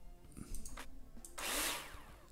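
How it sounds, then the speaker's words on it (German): A power drill in the building video game Builder Simulator whirs in a few short bursts, then one longer, louder spin, heard alone. "Jetzt könnte ich natürlich immer wieder wechseln auf die Bohrmaschine."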